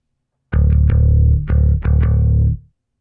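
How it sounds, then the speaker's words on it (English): Bass guitar run through a Waves CLA Bass distortion plugin, playing a loud, gritty sustained line of several notes with sharp attacks, heard alone without talk. "So now let's move on to the distortion section."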